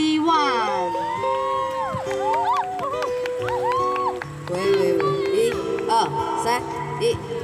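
An audience at an outdoor lawn concert whoops and cheers as a student guitar club is introduced. Bright rising and falling yells and shouts overlap above a lively crowd murmur.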